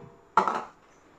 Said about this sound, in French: je mets le sucre dans ma casserole